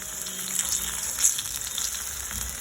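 Plantains frying in plenty of oil in a pot, giving a dense, steady crackling sizzle close by with scattered sharp pops and no voices.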